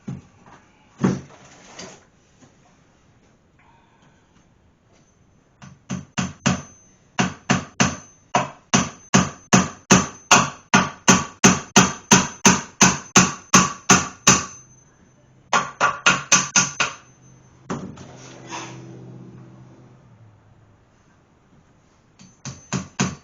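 Nails are hammered by hand into pressure-treated lumber for a damp bathroom floor under a house, some toed in, with close, loud, evenly spaced blows in long steady runs separated by short pauses.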